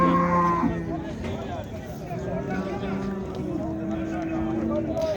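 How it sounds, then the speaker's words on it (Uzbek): Cattle at a livestock bazaar moo loudly nearby, one long low call at the start and more lowing running underneath, while people talk and haggle over the animals throughout. "Yana qochgan sigir."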